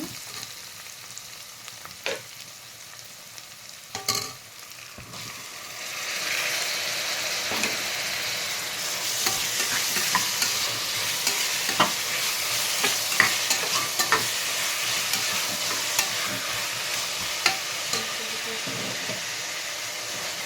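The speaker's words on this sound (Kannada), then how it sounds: "ಟೊಮೊಟೊ ಆ್ಯಡ್ ಮಾಡ್ಕೊಂಡ್ಮೇಲೆ ಚೆನ್ನಾಗಿ ಫ್ರೈ ಮಾಡ್ಕೋಬೇಕು." Tomatoes frying in oil in a pan give a steady, close sizzle with scraping stirs, quiet at first and then louder and continuous from about six seconds on, with no talking.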